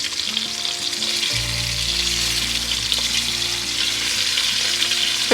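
Meat browns in a preheated wok over a small burner at a dinner party in Kuala Lumpur, giving a loud, continuous sizzle and crackle under a low, steady burner hum.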